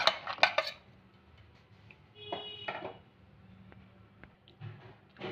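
Beans, potato and tomato tipped into a wok for a hand-mashed coriander-leaf bean dish, giving a few sharp clatters and scrapes of metal early on, then softer knocks and rustles with quiet gaps between.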